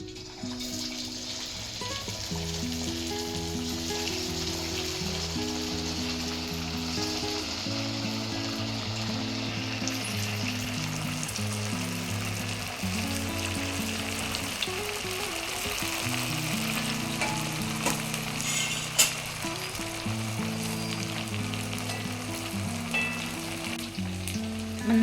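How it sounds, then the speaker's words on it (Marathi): Sabudana vada, tapioca pearl fritters, frying in hot oil, a steady dense sizzle and bubbling that holds loud and even for the whole stretch, with background music playing along. "आता इथे आपलं तेल चांगलं गरम झालेलं आहे. त्यात आपण एक एक करून वडा सोडायचा आहे."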